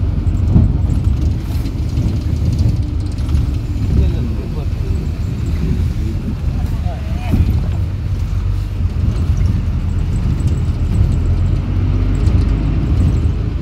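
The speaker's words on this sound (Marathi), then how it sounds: "गाडी सारखी वळणावळणाने जाते आणि हलते" A car engine hums steadily while driving a winding mountain road toward Gangotri, a constant near drone with road rumble, and a person talks over it throughout.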